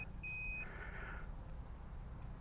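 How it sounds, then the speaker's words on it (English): An e-bike, the Happyrun Tank G60 Pro, gives a short pair of thin high beeps from its turn-signal indicator, faint and quick over a low background hum. "if you can hear that, it beeps at you"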